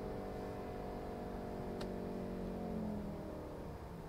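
A 2019 Volkswagen Golf R, MK7.5, slowing down, its steady engine hum and drivetrain whine easing off evenly inside the cabin, with a faint tick partway through.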